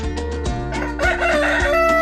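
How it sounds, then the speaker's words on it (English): A rooster crows loudly and close by, a drawn-out harmonic cock-a-doodle-doo with a stepped rising and falling call, and a little clucking mixed in. "Rooster,"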